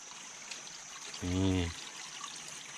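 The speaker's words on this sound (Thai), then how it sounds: "ได้ยินเสียงน้ำไหลอยู่อยู่ข้างบน" A mountain stream flows somewhere above as a faint, steady trickle and hiss of water, and a short voice sounds briefly in the middle.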